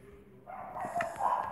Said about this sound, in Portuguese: Pessoal, não se incomodem com o barulho, é porque aqui em casa tem cachorro